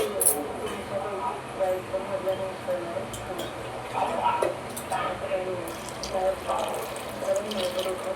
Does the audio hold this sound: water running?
yes